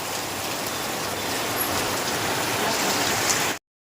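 Steady rain pattering down on a surface, a dense continuous hiss with no voices, cutting out abruptly near the end.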